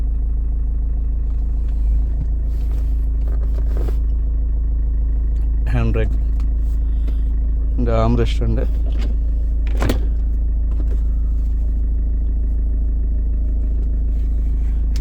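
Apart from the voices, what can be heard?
Mahindra XUV 500 diesel engine running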